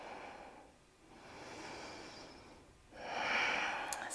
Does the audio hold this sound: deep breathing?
yes